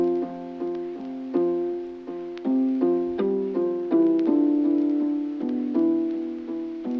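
A catchy plucked melody from a Sapphire Guitar Essential instrument in a lo-fi hip-hop beat, with short, evenly spaced notes stepping up and down, clean and close with no voices.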